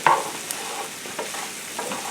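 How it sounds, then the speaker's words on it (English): Pearl onions and mushrooms caramelize in a pan with a low, steady sizzle and occasional stirring scrapes, close and moderately quiet, with no voices. "caramelizing these onions and mushrooms"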